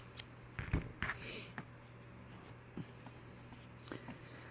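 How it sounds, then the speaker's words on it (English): Scissors cutting yarn while crocheting a granny square, a few quick close snips and rustles in a quiet room. "cut your yarn"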